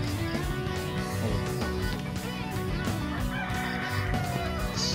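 Rooster crowing and hens clucking at an agri-tourism park in Bulacan, Philippines, over a dense, steady wash of background sound, the calls repeating intermittently and fairly close.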